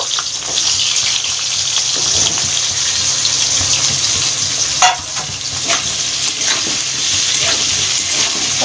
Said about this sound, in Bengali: এবার সবজিগুলো দিয়ে দেব, দিয়ে একটু সবজিগুলো ভেজে নেব